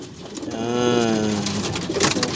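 A single pigeon gives a close, soft, rising-and-falling coo. The pigeons are being treated for one-eye cold, and faint background noise sits around the call.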